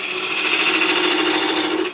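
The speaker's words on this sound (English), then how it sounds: "I'm using a 1/4 inch parting tool." A 1/4 inch parting tool cuts into a spinning wood blank on a lathe while stacking boxes are turned, giving a steady, close, continuous scraping rasp that holds for about two seconds.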